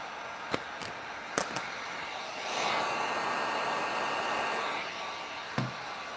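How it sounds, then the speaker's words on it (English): A heat gun blows hot air over vinyl wrap on a small promotional item, a breathy whooshing hum that rises midway and runs a few seconds, with sharp clicks and taps before and after. "Let's get the heat gun out."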